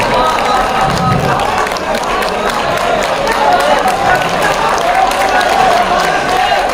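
A concert audience at a ghazal performance applauds loudly and continuously, with a thick wash of many clapping hands and some cheering lasting nearly seven seconds, voices mingled in the crowd noise.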